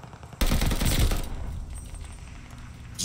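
An STG44 rifle in Call of Duty Vanguard multiplayer fires a rapid, loud automatic burst lasting under a second, then fades into quieter game ambience before a final sharp shot.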